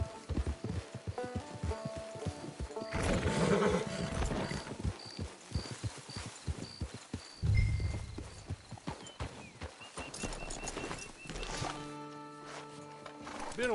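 Hooves clip-clop steadily on hard ground as a horse walks, with a brief snort and soft game-style music and effects around it.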